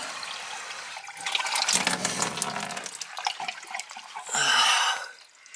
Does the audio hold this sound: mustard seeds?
no